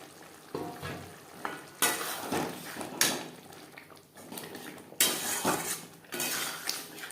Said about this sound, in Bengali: 2-3 মিনিট আলুর সাথে নাড়াচাড়া করে নেব